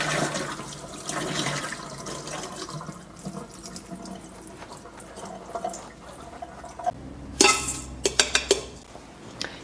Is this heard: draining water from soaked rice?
yes